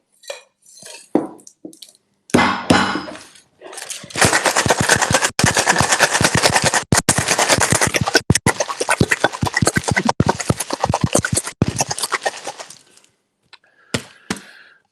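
Ice rattles hard inside a cocktail shaker tin as a drink is shaken at Harry's Bar: a few light taps, then about eight seconds of loud, rapid, continuous clattering that ends with brief clinks.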